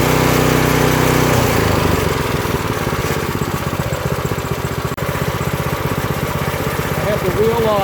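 The small engine of an Earthquake Victory tiller runs steadily at a rough, rapid idle throughout, loud and close, with a brief voice near the end.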